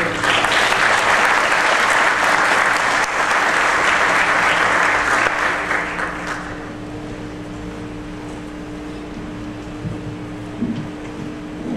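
An audience applauds at a summer science lecture event, with loud, dense clapping for about six and a half seconds before it quickly fades to a low room hum and scattered faint claps.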